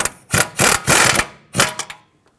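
A hand ratchet snugs the tie rod mounting nut through the knuckle on a Dodge Grand Caravan, giving several close, sharp bursts of clicking separated by short pauses before falling quiet.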